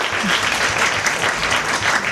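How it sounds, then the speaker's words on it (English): A crowd claps steadily at an all-India inter-school debate competition, even, dense applause held at full strength for a couple of seconds. "A big round of applause for Ms. Chattaraj."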